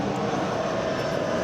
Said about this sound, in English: More airplanes.